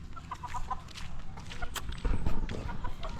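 Chickens clucking on a small backyard farm, several birds close by with irregular short clucks and calls over a steady low background, no talking.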